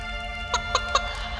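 A cartoon hen clucks three times in quick succession, close and clear over a faint background hum, with no talk.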